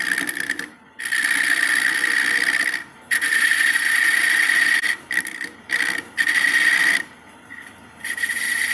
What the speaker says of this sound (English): Use my roughing gouge just to get rid of these corners.